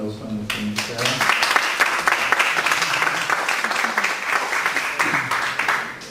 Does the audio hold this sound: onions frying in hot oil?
no